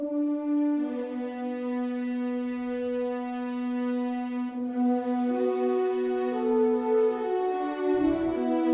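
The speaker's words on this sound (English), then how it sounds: "some sustained string here along with the first one here." Sustained orchestral strings and woodwinds from a cinematic score hold long, smooth chords that shift slowly to new harmonies, soft and even with no percussion.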